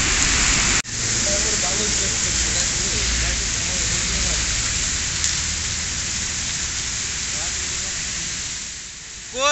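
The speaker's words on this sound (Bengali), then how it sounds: "দেখুন কী পরিমাণ বৃষ্টি, মানে এত পরিমাণে বৃষ্টি যার বলার মতো না" Heavy rain pours steadily during a night ride on a Honda motorbike, a dense broadband hiss under the rushing engine and wind, with occasional voices faintly in the background.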